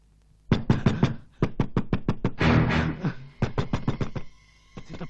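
Rapid knocking on a door, two quick bursts of about ten loud, close raps each, separated by a brief noisy rustle, with a few more knocks at the end.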